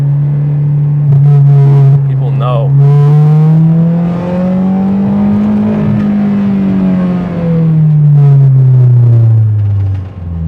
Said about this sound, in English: But this is just the exhaust catback Skunk2 exhaust.